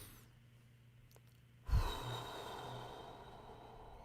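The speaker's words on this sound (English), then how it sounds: "If you can, participate in this by taking in a deep breath." A single deep inhalation, heard close and quiet, swelling into a long breathy exhale that tails off slowly, with no talking during it.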